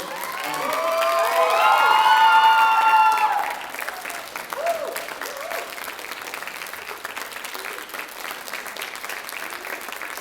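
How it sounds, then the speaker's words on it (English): Students at a school closing ceremony applaud and cheer for their coaches, with loud shouting and whoops rising early over the clapping, then steady applause continuing with scattered voices. "give them an applause"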